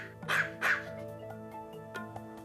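A dog lets out two sharp, close barks followed by softer yips and whimpers trailing off over a couple of seconds.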